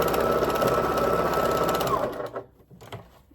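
A sewing machine stitches fabric pieces to a strip set for a valentine hearts-and-cross quilt, running loud and close for about two seconds before stopping, followed by a few faint handling sounds.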